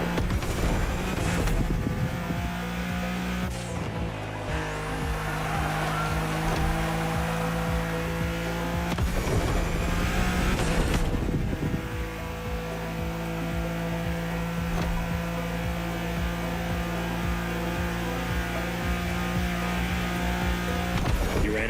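A Honda NSX with a hybrid powertrain drives in The Crew Motorfest, its engine a steady, loud drone with layered harmonic tones, broken by two brief whooshing swells as the revs shift.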